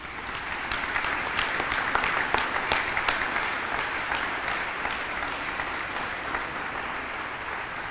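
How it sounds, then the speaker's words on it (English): At the 1st Regiment Basic Camp graduation ceremony of 2022, the audience applauds the awardees with a broad, continuous round of clapping. It peaks early with crisp close claps, then settles into a steady, slightly softer wash. "please join me in giving our awardees a round of applause"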